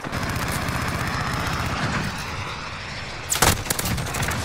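Automatic gunfire from a mounted gun in Modern Warfare on the Shipment map, a steady dense stream of rapid shots lasting most of the clip, with a louder burst near the end.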